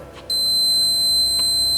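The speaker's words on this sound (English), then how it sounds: "one red light alarm, one buzzer" A steady electronic buzzer tone on an Earth Chain sPINner HD-735 magnetic deburring machine switches on abruptly and holds continuously, loud and close, over faint machine hum.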